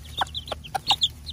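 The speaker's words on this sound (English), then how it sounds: "I did want to show the baby chicks are all getting big." Young farm chicks cluck and peep in short scattered bursts, close by and moderately loud, with no talking.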